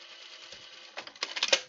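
Sewing machine stitching a 5/8 inch encased seam on a dress, heard as a short, close burst of quick mechanical clatters that builds after a quiet start, with no talk.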